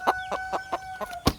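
Silkie crossed with Rhode Island Red chickens giving a quick run of five or six close, clear clucks in a steady rhythm, ending with one sharper, louder note.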